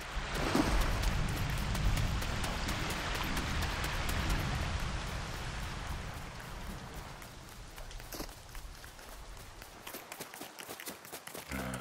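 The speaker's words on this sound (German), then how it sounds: "Regen, Regen, Regen." Steady rain hisses in the Lego Fortnite game world, a dense constant patter that is loudest at first and then eases slightly while soft footsteps or running tap through it.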